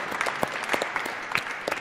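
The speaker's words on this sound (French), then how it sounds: "Je en profite pour applaudir à peu près tous les musiciens qui étaient là." Audience clapping for musicians at an acoustic session in Paris, a thin scatter of individual claps, fairly close, with no voices over it.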